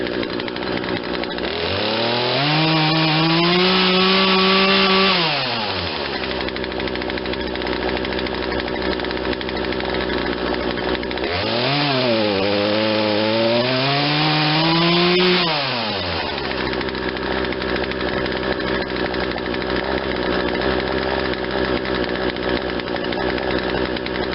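A Poulan Wild Thing 40cc two-stroke chainsaw with an 18-inch bar idles during carburetor tuning, then revs up twice in long rising-and-falling bursts before settling back to a buzzing idle, loud and close.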